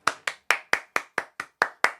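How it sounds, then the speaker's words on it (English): A few hands clap at home in a steady, evenly spaced rhythm, nine crisp, close claps in two seconds with no voices. "I think the family should applaud."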